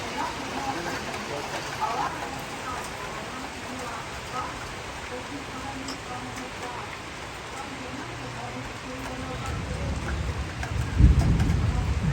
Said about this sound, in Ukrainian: грім гримить.